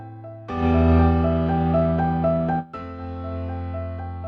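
Warm, gritty piano chords ring out with a slightly saturated, old-fashioned lo-fi tone, a brief break, then more sustained chords.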